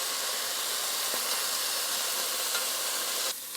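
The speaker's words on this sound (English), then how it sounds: "Then I will continue browning the rest before we do anything else to this pot." Short ribs browning in a hot pot give a steady, loud, close sizzle and hiss that runs unbroken before cutting off abruptly near the end.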